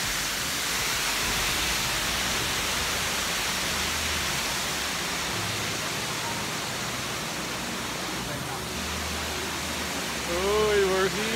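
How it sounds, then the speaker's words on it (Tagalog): Lion Falls in Tanay, Rizal pours with a dense, continuous rushing roar of falling water. It holds steady and fairly loud throughout, and a brief voice comes in near the end. "Welcome to Lion Falls."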